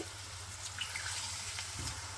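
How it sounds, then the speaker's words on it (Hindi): A cup of water pours into chicken frying in a pan for butter chicken, giving a faint, steady hiss and gush of liquid over low background hum. "अब हमारा चिकन भुन गया है। इसमें 1 कप पानी डाल के"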